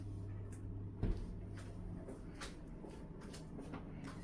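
A bathroom door in a room at the Marriott Park Tower hotel in Buenos Aires opens with a single soft clunk and slide, heard close in a quiet room with faint background hum.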